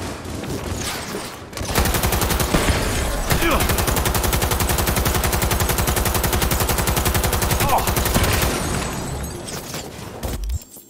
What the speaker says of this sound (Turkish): Sadece atış ediyorlar ama vuramıyorlar.